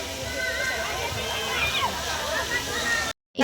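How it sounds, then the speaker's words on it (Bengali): Continuous splashing of water falling from a fountain in a fairground park fills the scene, steady and moderately loud, with a voice speaking over it before a brief cutoff. "সুন্দর ঝর্ণা থেকে জল পড়ছে"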